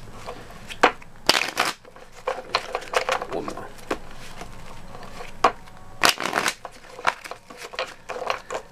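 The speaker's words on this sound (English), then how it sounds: "I've already pre-shuffled, but I'm just gonna give it a couple more" Tarot cards being shuffled by hand in a series of sharp, irregular riffling bursts, close and crisp, some louder than others.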